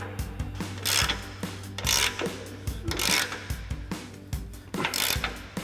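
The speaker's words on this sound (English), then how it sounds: "We've got our 24mm socket." A 24mm socket on a ratchet tightening a strut bolt on a 2024-2025 Toyota Tacoma, close repeated clicking strokes in an uneven rhythm with brief rubbing swells.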